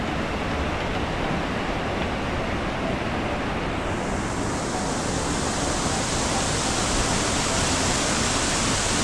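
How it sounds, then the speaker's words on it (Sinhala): Diyaluma Falls pours down in a continuous, loud, full-bodied roar of rushing water that stays unbroken and steady throughout. "මාර වතුර පාරක් එන්නේ."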